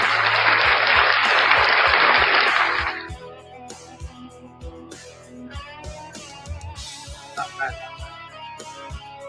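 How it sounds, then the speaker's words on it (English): A loud, dense round of applause opens, then cuts off after about three seconds, giving way to quieter music-like tones and other sounds. "Round of applause for FTR News Network"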